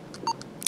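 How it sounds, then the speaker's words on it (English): Short electronic key-press beeps from a Revo K101 Plus media device, a few quick, thin tones in close succession, clear and near, with no talking. "Key sound, on and off."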